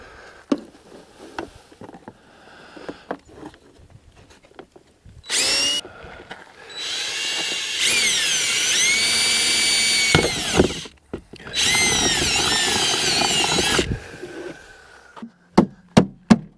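A power drill bores holes for mounting a cook box on a Jeep tailgate, running in several sustained whining bursts of a few seconds each, close and loud, with knocks and handling clicks between them.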